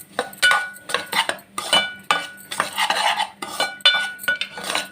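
Semolina roasting in ghee in a pan, stirred with a metal spoon that scrapes and clinks against the pan in quick irregular strokes, close and clear with no speech.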